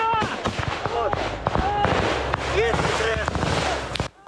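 Gunfire crackles through woods as Ukrainian troops come under fire just after leaving an armored vehicle, sharp repeated cracks and bursts at close range, with shouting voices mixed in throughout.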